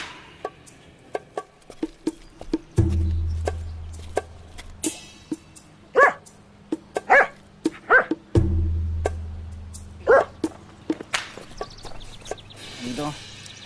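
A dog barks and yips in short sharp bursts, scattered irregularly, with muffled background sounds and occasional thumps.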